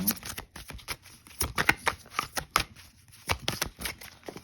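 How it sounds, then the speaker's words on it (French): Tarot cards shuffled by hand in an irregular run of crisp riffling flicks and slaps, close and fairly quiet, with brief pauses between bursts. "Donc je vais faire sauter une carte pour chaque choix."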